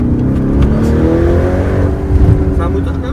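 Engine of a 745 hp Mansory-tuned Lamborghini Urus revving, a loud, steady low rumble with rising pitch that swells briefly near the end, heard up close.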